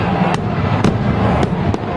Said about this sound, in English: We got some fireworks going on.